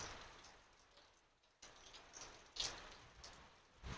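Rain falls in a home town after strong wind, a soft, faint steady patter with a few louder drips and taps standing out now and then, no voices.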